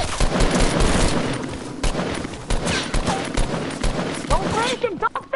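Rapid bursts of automatic gunfire in a shooting video game, loud and close, crackling in repeated volleys with brief gaps, and voices talking intermittently over the shooting.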